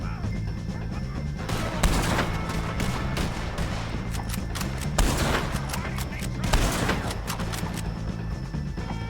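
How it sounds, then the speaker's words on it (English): Scattered gunshots in a Red Dead Redemption 2 shootout against O'Driscoll gang members, several louder cracks standing out over a dense, steady background of game noise and ambience. "Take a shot on these O'Driscolls."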